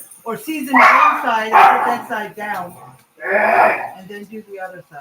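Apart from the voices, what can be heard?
dogs barking while playing and fighting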